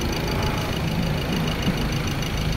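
A Ford Ranger 2.2 with a low-power problem runs steadily at idle, a continuous low rumbling drone with a faint knocking texture, heard close and alone without any voices.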